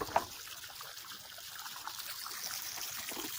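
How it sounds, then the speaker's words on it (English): Garden irrigation water trickling outdoors, a faint, continuous soft dribble and babble close by, with one brief small knock near the start and no talking. "Our irrigation's still working real good."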